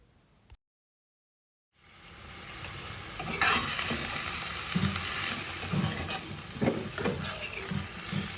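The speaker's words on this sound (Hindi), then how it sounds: "उसकी अच्छे तरीके से भुनाई करने के बाद इसमें डाला अदरक लहसुन का पेस्ट।" Chicken frying in a kadhai with ginger garlic paste, a loud sizzle bursting in after a brief silence, with stirring scrapes and crackles continuing steadily up close.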